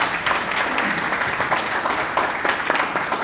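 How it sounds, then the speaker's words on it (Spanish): An audience at a panel event on ESG corporate reporting breaks into applause, a sustained, even clatter of many hands lasting the whole stretch, with no voices over it. "Un aplauso, por favor."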